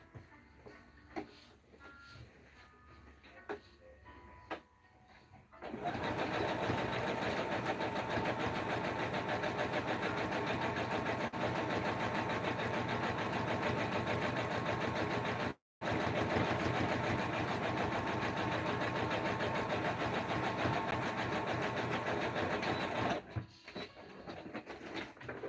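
A sewing machine stitches patches onto denim in one long steady run of even mechanical whirring. It cuts out briefly once and then resumes, with quieter handling sounds before and after.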